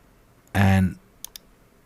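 Two quick computer mouse clicks, close and light, land just after a brief voiced burst.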